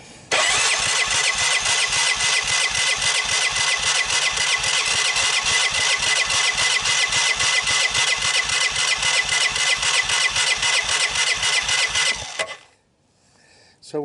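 A water-damaged Honda Fourtrax 300 ATV engine cranking over on the starter for a compression test, rapid even chugging pulses for about twelve seconds, loud and close, then cutting off abruptly.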